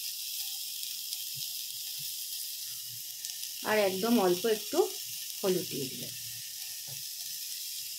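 Vegetables and potato frying in a little ghee for khichdi, a soft steady sizzle under a woman's speech, faint and close.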